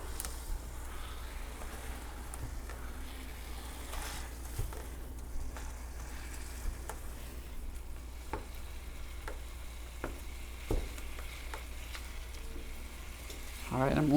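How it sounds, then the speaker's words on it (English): Ground beef browns in a pan while a mix-and-chop tool breaks it up, giving a steady low sizzle with scattered scraping and tapping strokes, close and fairly quiet, and a louder clatter at the end. "we're going to cook the ground beef"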